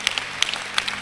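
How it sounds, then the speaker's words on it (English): Scattered hand claps from a church congregation at a one-day believers' conference service: a few sharp, separate claps spaced irregularly across a brief moment, with no voices. "hand clap belong to God."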